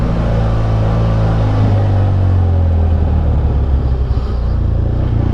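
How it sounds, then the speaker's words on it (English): A BMW F800GSA motorcycle exhaust gives a loud, steady low rumble while riding on the road, the engine note holding fairly even throughout. "Beautiful sounding exhaust."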